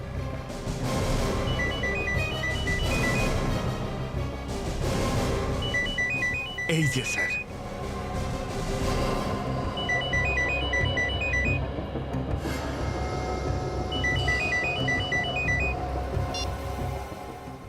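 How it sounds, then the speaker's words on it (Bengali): A phone ringtone repeats in short melodic bursts every few seconds, fairly faint beneath background noise, while people talk. "ফোনের একটা রিং শুনছি কিন্তু ফোনটা দেখতে পাচ্ছি না"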